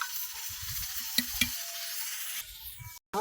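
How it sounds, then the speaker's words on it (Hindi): Yogurt being stirred into a mutton masala cooking in a pot, a soft continuous sizzle with a couple of light scraping knocks from the spoon and a brief clatter at the end. "दही डालने के बाद इसको अच्छे से मिक्स करना है और 2 से 3 मिनट तक पका लेना है इसको।"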